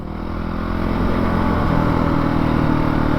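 A 2019 Honda CRF450L dirt bike riding on an OHV trail, its engine droning and building steadily with constant wind and mechanical roar, loud and close throughout, no talking.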